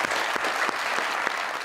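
A comedy show audience applauds, a short, steady wash of many hands clapping together with a few sharper individual claps standing out.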